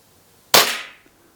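A single sharp crack from an Umarex Glock 17 Gen 4 gas blowback airsoft pistol firing a 0.20 gram BB, heard up close with a quick hissing decay afterward.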